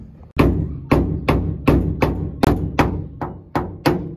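A small paintless dent-repair hammer taps a car body panel in about nine sharp, evenly spaced knocks, each ringing briefly before the next, close and fairly loud.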